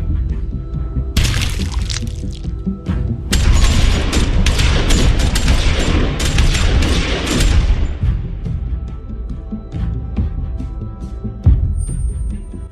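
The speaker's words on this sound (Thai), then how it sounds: "เสียงปืนที่ดังขึ้นในเอพิโซดที่แล้ว" Rapid bursts of gunfire in the video game The Walking Dead: Season 2, sharp cracks and booms, dense volleys for several seconds before tapering into scattered shots.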